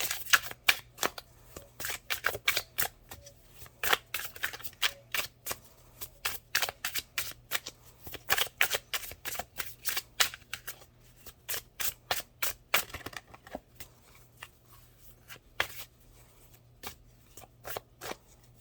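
Tarot cards are shuffled by hand in quick, crisp riffling bursts, repeating rhythmically for a long stretch with brief pauses, close and clear against a quiet background hum.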